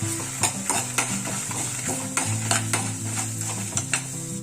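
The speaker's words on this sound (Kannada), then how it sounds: "ಎಲ್ಲ ಒಂದ್ ಸ್ವಲ್ಪ ಕೆಂಪಗಾಗೋ ತನಕ ಚೆನ್ನಾಗಿ ಫ್ರೈ ಮಾಡ್ಕೊಳ್ಬೇಕು" Spices fry and sizzle in a pan for rasam while a spoon stirs and scrapes, giving repeated close metallic clinks over a steady hiss.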